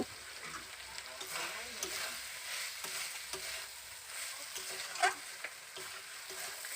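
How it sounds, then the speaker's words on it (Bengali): Potato and bitter gourd sizzle softly with spices in a pan as a spoon scrapes and stirs them, with a steady low frying hiss and occasional taps. "এবার উচ্ছে আলু আর মশলাগুলো একসঙ্গে ভালো করে কষিয়ে নেব"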